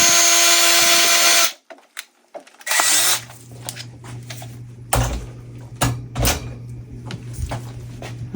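A power mixer runs at high speed, stirring a mold-making mixture with a loud whir that cuts off abruptly, followed by clattering handling noises and a low steady hum.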